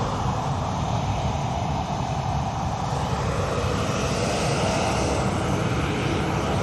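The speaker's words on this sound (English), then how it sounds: "Ryanair are going to be going to Dublin" Jet airliner engines roar steadily at Manchester Airport as a Ryanair aircraft departs for Dublin, a loud, continuous broadband rumble that holds evenly throughout with no voices.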